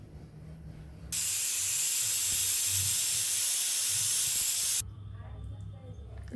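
A pressure cooker lets out a loud, steady hiss of steam for several seconds as it builds toward its whistle, starting and stopping abruptly over a low kitchen background while egg biryani cooks.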